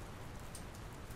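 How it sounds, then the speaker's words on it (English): Steady, soft rain hiss fills the scene in the video game Dr. Langeskov, The Tiger, and The Terribly Cursed Emerald, a continuous even wash of falling rain with no talk. "I don't think it's supposed to still be raining"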